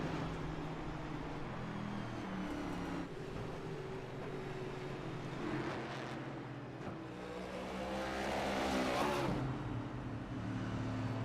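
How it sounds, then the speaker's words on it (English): Race cars in the iRacing Cup series crossing the finish line at New Hampshire, a steady engine drone with revving and passing swells building louder toward the end. "See our cars crossing the line here."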